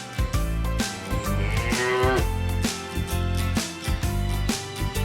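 A cow moos over bright, bouncy background music in a children's farm animal cartoon, the low call blending into the steady beat.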